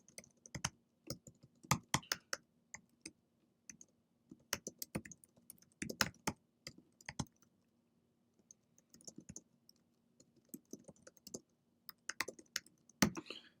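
Keystrokes on a computer keyboard while typing text into Photoshop, coming in irregular bursts of close, crisp clicks with short pauses between them and no voices.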